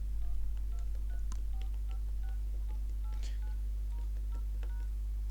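A TTFone handset plays short DTMF keypad tones as numbers are pressed, a dozen or so quick beeps in an uneven sequence over a steady low mains hum.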